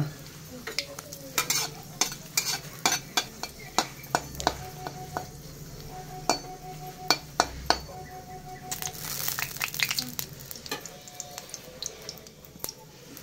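Green chilies frying in oil in a pan, a continuous sizzle under repeated sharp scraping and stirring clicks from a utensil, with a louder hiss swelling near the middle.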